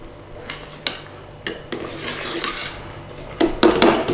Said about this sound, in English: All we need to do now is give it a little stir around.